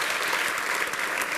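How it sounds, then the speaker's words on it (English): A science festival audience claps together in a quick, dense burst that is full and steady, with no talking over it. "Clap if you are a biological entity."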